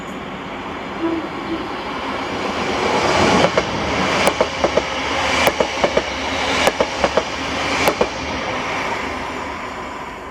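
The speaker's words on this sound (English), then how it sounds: "the 1510 ScotRail Service to Ayr from Glasgow Central with 380, 108" A ScotRail Class 380 electric train passes through Paisley Gilmour Street station, rising to a steady roar as its wheels beat out a regular clickety-clack over the rail joints, close and loud with no voices.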